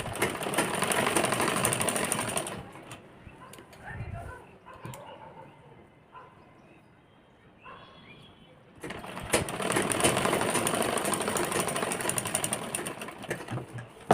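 Sewing machine stitching along the folded edges of net fabric for a frilled blouse, whirring loudly in a long run, stopping while a voice speaks, then starting again.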